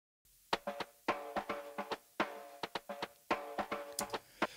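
A dirty, thin percussion loop of sharp, close hits with a tonal ring, played alone in an uneven, syncopated pattern at steady loudness.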